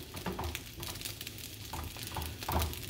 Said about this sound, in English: you just kind of scramble them like you would, except you're scrambling it in the pan